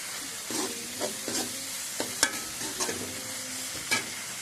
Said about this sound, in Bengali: আলুটা একটু ভেজে রাখছি, মশলার সঙ্গে নাড়তে থাকবো।